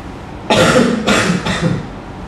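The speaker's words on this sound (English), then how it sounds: "this time you will not exhale but you will cough" A person coughs three times in quick succession, close and fairly loud, with brief pauses between the coughs.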